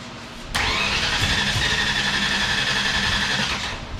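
A car engine, just fitted with a new fuel pump and distributor, cranks and catches, then settles into a loud, steady idle with a whining hum close by, running alone until the end.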